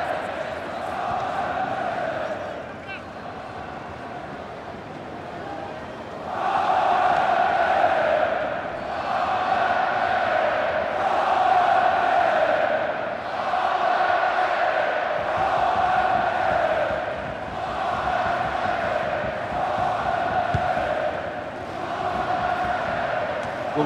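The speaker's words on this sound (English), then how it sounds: "Well, just listen to this crowd. They want a bit more." A large stadium crowd in FIFA 22 football gameplay at the VfL Wolfsburg Arena, Wolfsburg against RB Salzburg, chanting loudly in rising and falling waves that come and go over several seconds.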